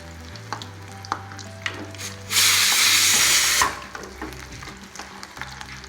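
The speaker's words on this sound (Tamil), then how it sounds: "நல்லா கிறிஸ்பியாக பொரிஞ்சு வச்சிருக்குது சிக்கன்." Chicken frying in oil until crispy, a steady sizzle that swells into a loud burst of spattering for about a second mid-clip, with small clicks of stirring before and after and no talking.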